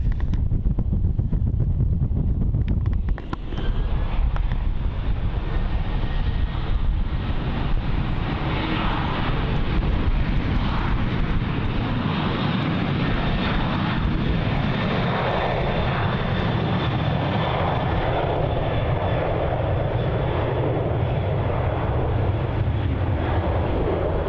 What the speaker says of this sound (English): Virgin Australia flight VA1320 off to Hobart